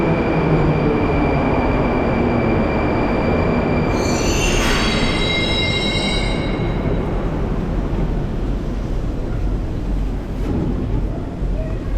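A Moscow metro train pulls into Kurskaya station: a loud, steady rumble with a bright wheel squeal rising and fading in the middle, close and continuous with no talk.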